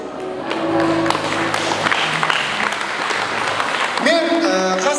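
A wedding audience bursts into sustained applause, dense clapping from a crowd filling the hall steadily for several seconds, with a few voices and tonal sounds mixed in.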